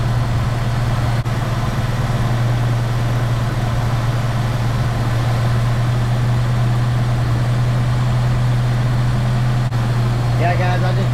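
A 1976 Chevy LUV pickup engine with an electric choke idles steadily, a loud continuous low hum with a constant rumble, while someone talks over it.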